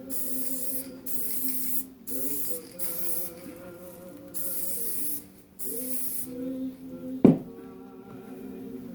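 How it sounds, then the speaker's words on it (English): Aerosol flocking spray, sprayed downward onto a small tree, hisses out in a series of steady bursts with short pauses between, close by, ending with a sharp clack. "So now I'm going to spray it again, downwards."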